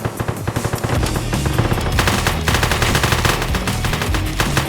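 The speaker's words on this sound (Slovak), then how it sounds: "Strieľam na nich." Rapid bursts of gunfire from a shootout during a robbery in a video game, sharp repeated shots running continuously and loud throughout, with a dense rattling rhythm like automatic weapon fire.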